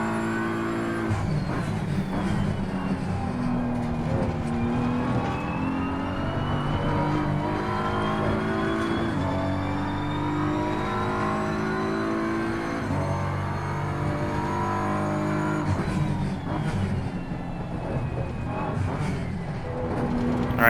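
A BMW M4 GT3 race car at Paul Ricard in a multiplayer racing game, engine revving loudly and continuously through repeated upshifts and downshifts, close and dominant throughout.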